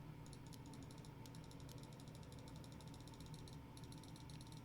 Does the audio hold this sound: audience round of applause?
no